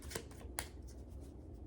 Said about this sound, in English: Let's shuffle them really good.